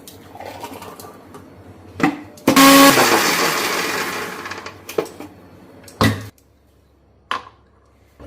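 An electric mixer grinder grinding juice ingredients with black salt roars loudly in a burst of about half a second, then runs in a shorter whir. Sharp clatters and knocks from the kitchen come before and after.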